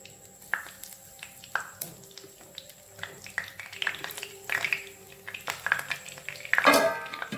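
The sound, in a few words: kothu parotta cutlets frying in hot oil in pan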